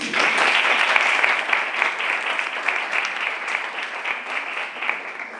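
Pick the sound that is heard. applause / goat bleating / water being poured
applause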